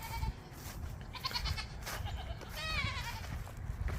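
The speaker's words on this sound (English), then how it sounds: "Having goats, they're the best pet I've ever had." Pet goats bleat several times outdoors among wildflowers, wavering calls rising over steady low rumbling background noise, with the loudest call near the end.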